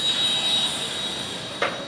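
A Skoda tram rolling along a Prague street, a steady rumbling hiss of wheels on rails with a thin high squeal, fairly near, and a brief louder scrape near the end.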